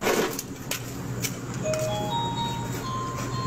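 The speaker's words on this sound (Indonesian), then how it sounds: "Kalau bel warung bunyinya begini," A shop doorbell chiming a melodic ice cream truck–style jingle, clear sustained tones stepping up in pitch over a low background hum, with a few sharp clicks.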